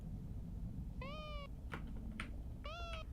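Two short meows from a cat in a horror video game, clear and fairly close, separated by brief clicks and thumps over a steady low background rumble.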